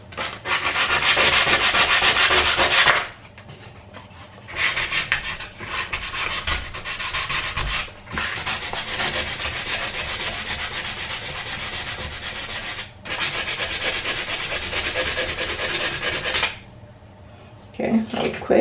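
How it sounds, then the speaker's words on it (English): Sandpaper rubbing back and forth on a small home DIY repair, close and steady strokes in long bursts separated by short pauses. "I'm just gonna sand this down."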